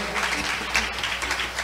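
A church congregation claps hands in praise after a mariachi song, a steady broadband patter of many hands, moderately close and continuous with no talk.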